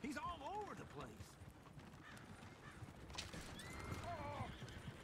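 Horses in Red Dead Redemption 2 whinny twice in rising-and-falling wavering calls, one at the start and another near the end, amid a busy background of hoofbeats and other noise.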